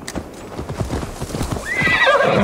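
A horse in Assassin's Creed Valhalla clip-clops in quick, steady hoofbeats, then lets out a loud whinny near the end.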